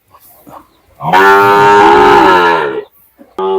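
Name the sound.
cow mooing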